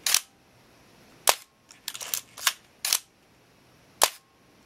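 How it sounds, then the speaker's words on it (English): A Minolta X-700 film camera fires its shutter: about six sharp, dry mechanical clicks at irregular intervals, close and crisp against a quiet room. "We can watch the shutter here from the front."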